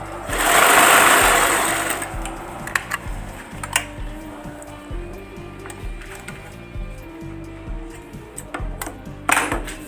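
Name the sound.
umbrella sewing machine stitching after tension adjustment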